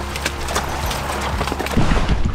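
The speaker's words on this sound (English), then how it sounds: "And a horse is a good choice." Hooves of a horse walk through woods on a Norwegian safari in search of musk ox, close and fairly loud, with irregular thuds and rustling that grow heavier toward the end.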